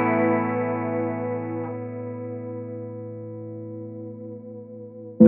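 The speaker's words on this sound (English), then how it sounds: "Let's do clean for chorus" A clean-channel electric guitar chord rings out through the chorus effect of a Line 6 Catalyst 60W combo amp, a shimmering, slowly wavering tone that decays for about five seconds before a sudden loud noise at the end.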